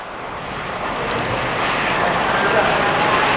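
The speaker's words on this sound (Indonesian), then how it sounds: "cuacanya hujan deras banget" Steady, dense rain hisses continuously, a heavy broadband wash that swells slightly louder over a few seconds.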